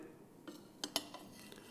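Cherry tomatoes dropped into a small saucepan give a few faint clinks and light knocks, close and brief against a quiet kitchen.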